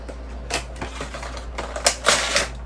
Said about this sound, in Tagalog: So tara, buksan na natin to.